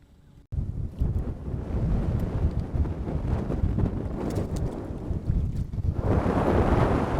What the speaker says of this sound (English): Ah, that wind's picking up.